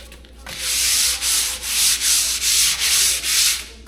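Rhythmic back-and-forth sanding of a wooden door with grade 150 sandpaper, each scratchy stroke close and loud, about seven strokes in steady succession with brief gaps between them.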